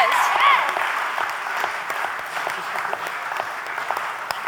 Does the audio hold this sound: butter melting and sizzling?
no